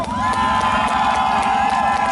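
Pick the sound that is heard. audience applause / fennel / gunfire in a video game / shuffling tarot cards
audience applause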